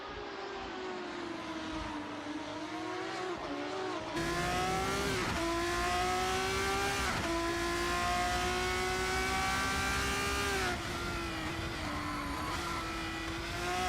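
Racing car engines scream in Racing Unleashed, a sim racing game, with several cars howling together and shifting pitch as they brake and accelerate; a sustained loud engine roar fills the whole stretch, with no distinct tyre squeal standing out.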